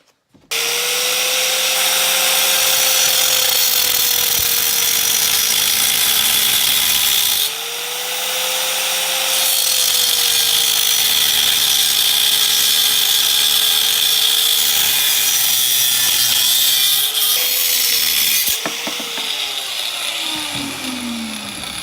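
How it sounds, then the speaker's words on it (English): A hacksaw or tool grinds through metal tubes for adjustable rear lower links on an FB RX7, a loud continuous buzzing whine that wavers in pitch, with brief breaks and no talking. "sometimes I like using a hacksaw because you'd be a lot more precise"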